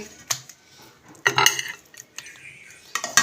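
Kachnar mutton, a Pakistani curry with mutton and kachnar buds, is dished out with metal utensils, giving irregular scrapes and clinks of spoon against pot, with quiet gaps between.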